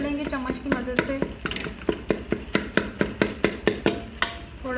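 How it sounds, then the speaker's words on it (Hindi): A spoon mashes gravy masala in a pan for a beef and egg kofta curry, making a quick run of close metallic clinks and taps in an even rhythm, with faint talk in the background. "अब हम इसे अच्छी तरह से मैश कर लेंगे चम्मच की मदद से।"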